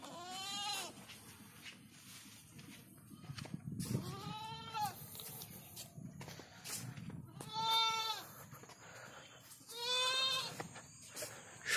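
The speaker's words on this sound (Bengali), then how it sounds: "একটা ছাগলও আছে এখানে," A goat bleats in a quiet village beside open fields on a foggy morning, giving about four separate wavering bleats spaced a few seconds apart, moderately near but soft, over faint outdoor background noise.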